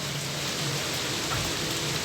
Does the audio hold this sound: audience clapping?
no